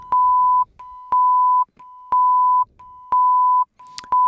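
A single 1000 Hz synthesizer oscillator sounding alone as a pure sine tone, pulsed in four steady half-second beeps separated by short gaps, clean and close.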